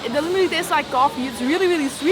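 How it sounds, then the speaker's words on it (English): Coffee roastery machinery inside a Shanghai café gives a steady, loud broadband whir and rush that runs throughout, with people talking over it up close. "very noisy because the roastery is right over there"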